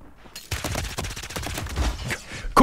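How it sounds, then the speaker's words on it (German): Rapid bursts of gunfire during a video game gunfight, a loud dense rattle of shots with a sharp final crack at the end, and no voices present. "Wir gucken uns den Gunfight an"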